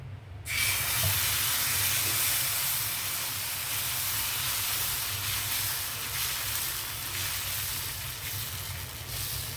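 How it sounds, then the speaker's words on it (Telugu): Dosa batter sizzles on a hot pan, starting abruptly as a loud, steady hissing spray that holds evenly and close for several seconds before easing a little. "అదేవిధంగా పిండి మళ్ళీ ఇలా కలుపుకుంటూ దోశ వేయాలన్నమాట"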